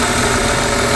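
A small engine on a test stand runs steadily and fairly loudly, a dense continuous drone. The engine is being tested after a CeraTec engine treatment, and one piston is suspected of being weak.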